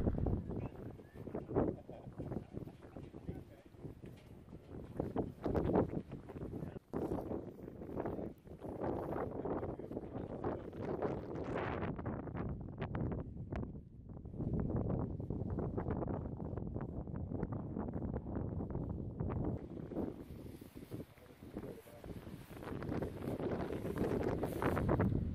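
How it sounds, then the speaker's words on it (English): Strong wind on an ocean bluff in Newfoundland buffets the microphone in low, rumbling gusts that rise and fall, with a hiss of air over an open outdoor space. "unfortunately it was very windy"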